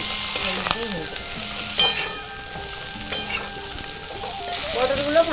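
Pointed gourd pieces fry with turmeric in a pan, a continuous sizzle broken by several metallic stirring clinks and scrapes, close and moderately loud.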